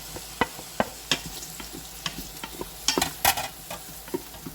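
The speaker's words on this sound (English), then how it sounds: "Okay, so the ghee is melted. I'm going to add the onions." Onions hit melted ghee in a pan and are stirred, giving a series of sharp sizzling crackles and scraping taps in quick, uneven bursts, close and fairly loud with no talking.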